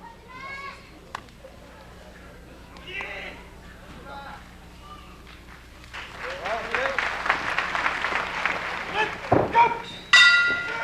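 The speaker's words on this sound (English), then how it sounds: "There's the bell." A ring bell at a professional wrestling main event in Japan sounds amid crowd noise, a sharp clang near the end following commentary and rising crowd cheers.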